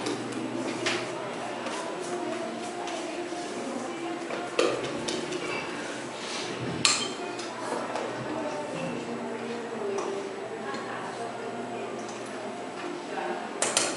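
Red velvet cake batter with cocoa flour and buttermilk being mixed in a bowl, steady scraping and stirring with occasional utensil knocks against the bowl, someone talking over it throughout.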